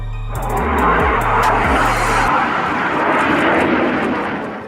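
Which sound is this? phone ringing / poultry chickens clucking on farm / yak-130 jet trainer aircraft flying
yak-130 jet trainer aircraft flying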